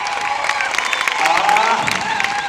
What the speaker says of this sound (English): I've heard you clapping